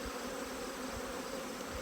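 Honeybees buzz around a hive entrance in early September, a faint, steady drone with a soft hum running beneath it and no talking.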